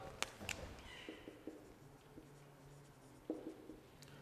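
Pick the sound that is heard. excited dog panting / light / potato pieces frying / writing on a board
writing on a board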